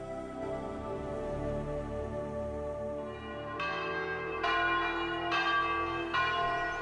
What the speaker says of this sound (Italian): mentre le campane delle chiese di Lucca suonano a festa per la resurrezione del Signore, Gemma prende il crocifisso